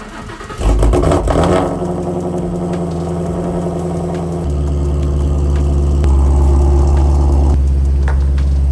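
A 1000HP Shelby GT350 V8 fires up and idles loudly close by in a garage, with a sharp start, then a deep rumbling idle that rises in pitch and volume as it pulls out.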